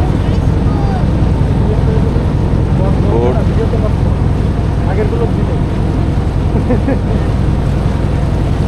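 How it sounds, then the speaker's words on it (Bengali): A small motorboat runs along a narrow canal in the Sundarbans mangrove forest, its engine giving a loud steady drone mixed with wind buffeting, while a voice speaks over it now and then. "আমাদের বোট।"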